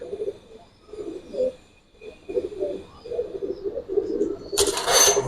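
Pigeons of old Giribaz, Bagha and Jabra breeds coo repeatedly at a crowded bird fair, low murmuring calls pulsing steadily, with a sudden burst of broadband rustle or flapping near the end.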